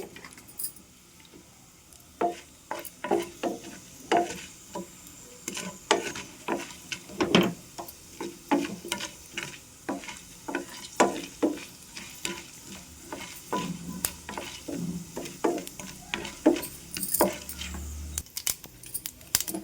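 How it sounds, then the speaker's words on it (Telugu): Mustard seeds splutter and pop in hot oil, a steady crackling sizzle with sharp, irregular snaps close by throughout. "పోపు గింజలు చక్కగా చిటపట్లాడే వరకు ఫ్రై చేసుకోవాలి"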